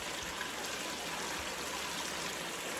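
Water pouring steadily out the side of a bucket, a continuous close splashing stream that holds the same level throughout with no pauses.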